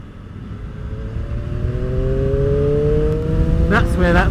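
A Triumph Street Triple RS motorcycle engine climbs steadily in pitch as it revs up toward 7,000 RPM, a rising whine heard up close under rushing wind, with a brief voice near the end.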